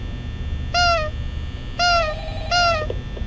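Freddy Fazbear's poster nose in Five Nights at Freddy's gives three short, squeaky honking tones in steady succession, each rising slightly, over a low, constant electrical hum.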